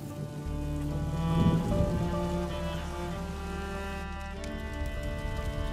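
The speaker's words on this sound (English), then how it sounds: "would you mind if we get out of the rain, please?" Steady rain patters on surfaces in the video game A Plague Tale: Innocence, a dense close hiss of drops that continues under a sustained musical tone throughout.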